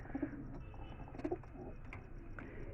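Fancy beauty homer pigeons coo in short low bursts at a winter livestock market, the calls fairly close against a steady background of crowd noise and faint chirps.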